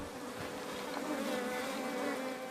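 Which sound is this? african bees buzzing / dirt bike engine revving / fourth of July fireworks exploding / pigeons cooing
african bees buzzing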